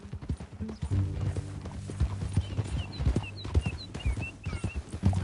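Horse hooves clip-clop at a steady walking rhythm in the Red Dead Redemption 2 video game, close and distinct, with brief snorts and faint background sounds.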